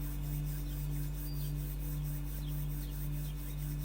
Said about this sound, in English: Rub the palms together. Create friction and heat as you continue the conscious breath.